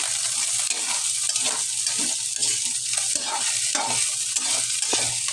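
Chicken sizzles in hot oil in a pan as it is stirred, a dense continuous frying hiss with scraping stir strokes throughout, close and loud, with no talking.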